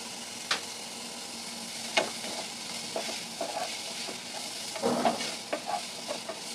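Onions fry in a pan during potato bonda preparation, a soft steady sizzle broken by scattered clicks and scrapes of stirring, with no voices.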